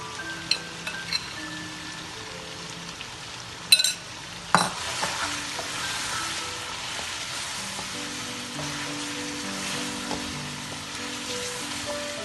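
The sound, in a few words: meat frying in pan with biryani masala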